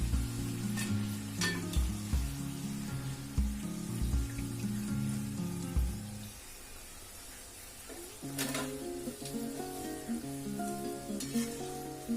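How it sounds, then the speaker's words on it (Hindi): Potato pakodas fry in oil with a steady bubbling sizzle, close and fairly quiet, while a tonal musical melody plays over it. "इसको हम लोग अच्छे से अलट पलट करके फ्राई कर लेंगे।"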